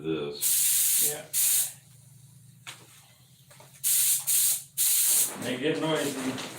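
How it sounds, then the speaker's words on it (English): A spray gun driven by an air compressor sprays clear coat in several loud hissing bursts of about half a second to a second each, separated by quieter gaps with a low compressor hum and brief talk. "I'm gonna have to plug in the compressor for this."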